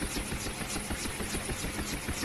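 Steady rotor chop and turbine whine of a Huey UH-1 helicopter in the DCS combat flight game, a continuous rhythmic beating that holds even and unbroken throughout.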